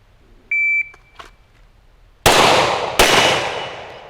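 Two loud sharp shots from a 10mm semi-automatic handgun about three-quarters of a second apart, each a sudden crack with a ringing tail, preceded by a short electronic beep and faint clicks.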